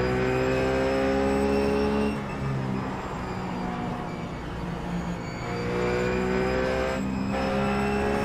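A Ruf GT3 race car in the iRacing sim roars steadily at Road America, its engine note dipping mid-corner and then climbing again as it pulls out, loud and continuous with no voices.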